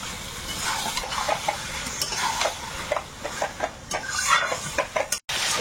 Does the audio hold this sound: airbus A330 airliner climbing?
no